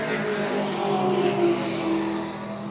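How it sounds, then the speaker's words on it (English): A race car circuits the track at a club racing event, its engine a steady, fairly distant drone that holds an even pitch with slight swells throughout. "Car's going again."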